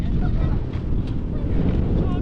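Strong wind roars and buffets the microphone at a seaside viewpoint in Bandar Al Khiran, Oman. Tents nearby are being blown away, and the low, continuous rumble carries a muffled voice underneath.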